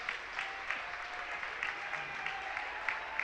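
Applause rolls through the crowd at a high school basketball game in the gym, a faint, steady patter of clapping with small bursts rising and falling across the stretch.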